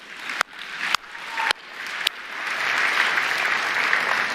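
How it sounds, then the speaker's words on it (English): A conference audience at Microsoft Build 2023 breaks into applause, a few loud isolated claps at first that swell into a full, sustained round of clapping. "Yeah, you can clap."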